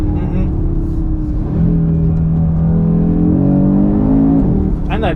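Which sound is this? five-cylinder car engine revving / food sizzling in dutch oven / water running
five-cylinder car engine revving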